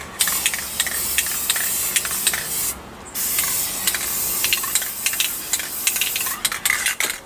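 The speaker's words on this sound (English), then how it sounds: "I'm going to spray the bottom half first" Aerosol spray paint hissing onto a birdcage in steady back-and-forth bursts, close and fairly loud, with a short pause partway through and quick sharp taps near the end; no talking.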